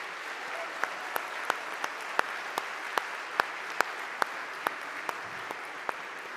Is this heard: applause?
yes